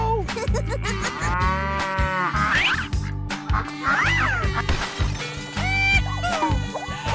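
A cartoon cow moos in an animated 3D slide game with other animals, a drawn-out lowing call over a steady, busy musical backing, near and fairly loud throughout.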